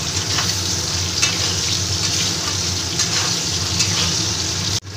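Potatoes and pointed gourd fry in a pan with a steady, close, broadband sizzle and crackle throughout, broken by a sharp clunk just before the end.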